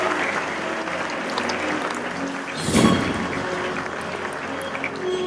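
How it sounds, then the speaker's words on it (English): An audience at a print industry summit panel discussion gives a big round of applause, a dense steady wash of clapping that swells briefly near the middle before settling, with no voices over it. "big round of applause for these 5 young gentlemen from Hyderabad"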